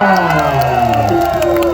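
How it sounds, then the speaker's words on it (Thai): Audience at a Thai singing-competition stage at a market cheers and whoops loudly as a crowd, with shouting voices and harmonic yells over a steady roar for a short burst. "เสียงปรบมือนะ"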